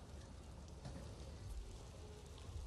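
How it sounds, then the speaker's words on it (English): Rain falls in the video game Jurassic World Evolution as a soft, steady hiss of drops, faint and continuous with no voices over it. "the rain was loud"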